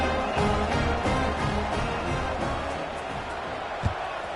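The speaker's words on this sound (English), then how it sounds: "this crowd is buzzing after that last score" Stadium crowd in the college football video game NCAA Football 26 buzzes in a steady, dense roar that fills the whole stretch, with a brief louder spike near the end.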